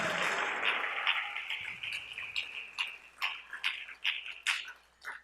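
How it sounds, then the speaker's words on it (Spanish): A church congregation applauds. Dense clapping at first thins out into scattered, separate claps that fade toward quiet. "Dale un aplauso al Rey en esta hermosa y linda tarde."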